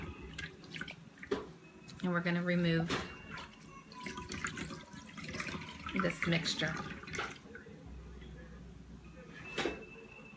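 Rinse water drips and splashes while a facial mixture is removed during an at-home skin treatment; soft wet drips and trickles sit under a person talking throughout.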